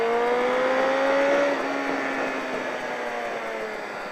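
A car accelerates out of a corner on a race track, its engine note climbing steadily and loud up close as it pulls away, with no talk over it.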